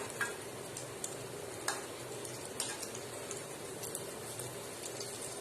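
Falafel patties fry in hot oil just after being turned, a soft, continuous crackle and sizzle close by with light ticking pops scattered throughout.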